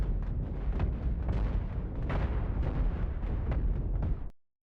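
Ship weapons firing in the space game Cosmoteer, a dense rapid barrage of booming shots and bursts layered over a continuous low rumble, loud and sustained throughout.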